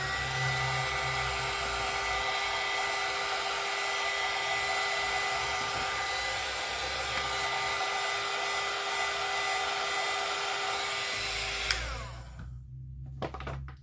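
A heat tool blows continuously at close range for about twelve seconds to warm the fold of a paper journal cover, a loud steady whining whoosh that cuts off abruptly, followed by brief handling noises.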